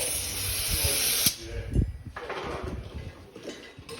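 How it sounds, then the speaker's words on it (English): A steady, bright hiss of air escaping from a punctured bicycle inner tube plays close up, then breaks off into scraping and rubbing handling noises with the hiss returning faintly. "So you can hear a spot where it's leaking."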